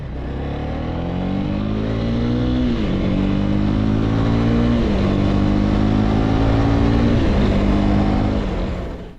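A Honda CB300R motorcycle accelerating hard through several gears, the engine note climbing steadily and dropping at each of three shifts, loud and close without any talking.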